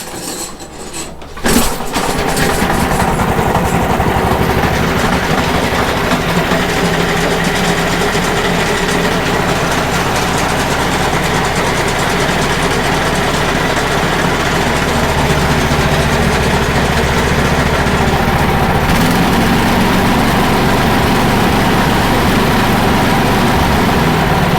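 A Briggs and Stratton engine on a lawn dethatcher starts after a brief quiet moment and then runs steadily. Its loud, droning idle holds on throughout, with a slight shift in tone near the end.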